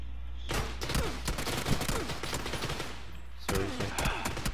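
Rapid automatic gunfire in PUBG rattles in sustained bursts, dense and continuous for a few seconds, breaks off briefly, then resumes, with sharp cracks standing out over a low rumble.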